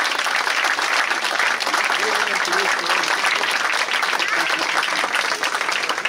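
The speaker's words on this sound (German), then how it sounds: "Wir haben ja einen kräftigen Applaus" Festival crowd at the opening of a Roman town festival in Mautern clapping vigorously, a thick, continuous roar of applause with voices and cheers mixed in.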